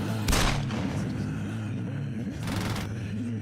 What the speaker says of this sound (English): Is that the sweet sound of gunfire?